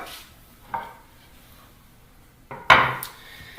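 A serving platter is grabbed in a home kitchen, giving a soft knock, then a sharper clatter of dish against a hard surface with a second lighter knock, close and loud against quiet room tone.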